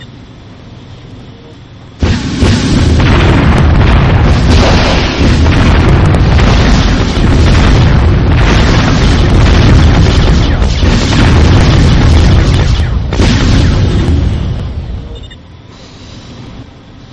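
Laser satellite strike in the real-time strategy game Warzone 2100: a sudden loud boom opens a long roaring, rumbling blast that sustains for about thirteen seconds before fading, following a quieter ambient bed.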